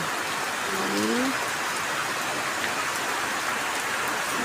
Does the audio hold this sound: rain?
yes